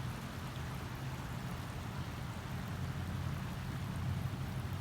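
Heavy rain falls behind a house where a creek is overflowing, a dense, even hiss of downpour with a low rushing undertone, steady and unbroken throughout.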